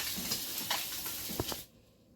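Fish fries in a pan in a home kitchen, a close, moderate hiss and crackle of oil with a few sharp spits, cutting off abruptly toward the end.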